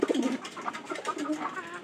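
Pet pigeons coo softly nearby in a few short, low, throaty bursts, close and faint, with no talking.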